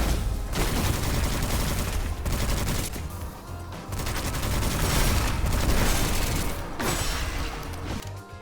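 Spell and gunfire effects from the dark fantasy shooter Witchfire, a loud, dense run of rapid shots, bursts and booming impacts that keeps going through the whole stretch with only brief dips.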